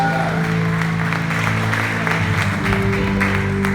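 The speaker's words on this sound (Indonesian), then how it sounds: "kita berikan sorak-sorak yang paling meriah sekali lagi" A church congregation claps and cheers during a worship service, a loud, sustained burst of applause mixed with crowd voices and music in a large hall.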